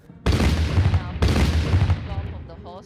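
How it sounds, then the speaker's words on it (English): Ceremonial gun salute fired by made-in-India artillery guns at a Republic Day parade: two loud, booming blasts about a second apart, each rolling into a long echoing decay. "These made-in-India guns replace the Army's 25-pounder guns from the British era, which have been used so far for the ceremonial gun salute."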